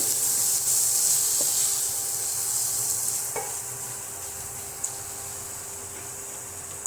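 Spices stirred and fried in a kadhai on a low flame for an aloo pakora curry, a soft continuous sizzle and hiss with occasional spoon taps against the pan, no talk.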